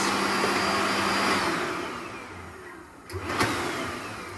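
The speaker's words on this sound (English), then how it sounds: "You have one of these old hair dryers" An old hair dryer runs in a hotel bathroom, giving a steady loud whooshing roar with a motor whine that dips and swells slightly near the end, with no voices.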